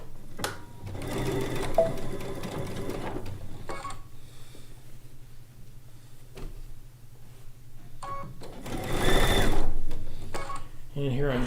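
A sewing machine stitches long seams on a log cabin quilt top, its rapid mechanical whir running in several bursts with short pauses and handling noises between, close by.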